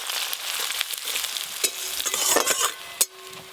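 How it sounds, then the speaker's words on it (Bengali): Chopped onions sizzle in hot oil that was just used to fry fish, while a spoon stirs them with scraping strokes and a sharp clack near the end, close and with no talking. "পেঁয়াজ কুচি ভালো করে ভাজা ভাজা হয়ে গেছে"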